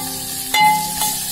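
Onions with garlic-ginger paste frying in a pan for a Maharashtrian patwadi rassa, a steady close sizzle with a couple of stirring scrapes against the pan and no talking.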